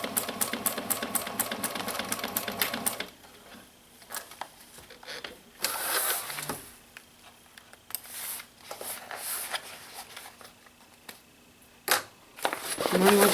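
A sewing machine backstitches the interior of a tote bag, starting with a loud, close, rapid mechanical stitching rhythm that stops after about three seconds, followed by quieter handling noises and a few short machine bursts.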